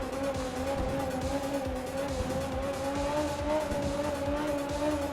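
A rally car in the racing game Art of Rally holds a loud, steady engine drone with a sustained tonal whine. Faint tire scrabble runs underneath throughout, with no talking.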